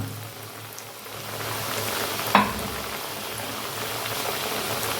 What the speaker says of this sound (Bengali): তেলের মধ্যে দিয়ে ডিপ ফ্রাই করে নেব একদম এইভাবে